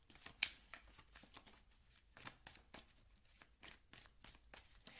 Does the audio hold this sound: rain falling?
no